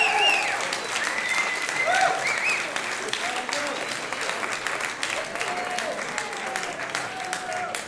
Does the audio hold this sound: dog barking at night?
no